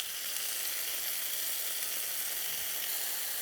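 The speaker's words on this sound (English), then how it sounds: "We have our fajita mix here. And we'll add just a little bit here to our pan." Fajita mix sizzling steadily in a hot frying pan, a loud, continuous bright hiss of frying with no pauses and no voices.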